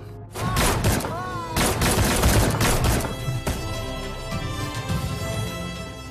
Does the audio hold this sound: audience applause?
no